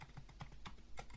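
Keys on a computer keyboard tapped in a quick, uneven run of about a dozen soft clicks, close up and on their own, with nobody speaking.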